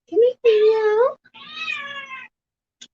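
A cat meows close by: one short cry followed by two longer, drawn-out meows, then silence and a faint click at the end.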